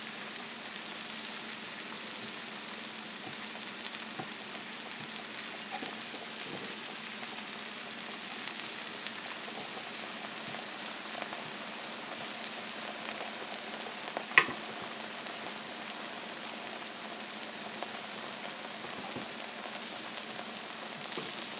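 A smash tortilla burger patty frying on a hot griddle, giving a steady, even sizzle that holds for the whole stretch, with faint scrapes and one sharp tick partway through.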